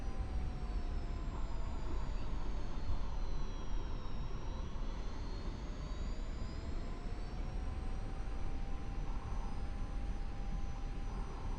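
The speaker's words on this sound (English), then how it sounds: "Let's take off that way." A jet aircraft's engines drone steadily during a takeoff run in the DCS flight simulator game, a continuous loud whine with a rising and falling tone that holds for over ten seconds.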